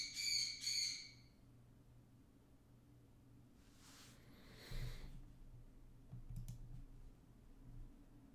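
A pet bird squawks twice in quick succession inside a quiet room, sharp harsh calls at moderate distance, followed by soft scattered clicks and shuffling.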